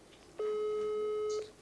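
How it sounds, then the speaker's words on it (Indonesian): One long electronic ringing tone from an unanswered video call holds steady for about a second against quiet background hiss. "saya lagi video call, ringing, belum diangkat"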